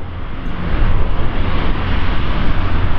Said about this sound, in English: I can hear winding up those big propellers